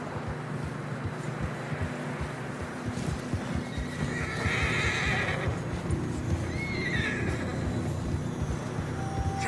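Horses whinny loudly in the middle of a Red Dead Redemption 2 ride through fresh snow, over a steady bed of muffled hooves and wind, with no talk.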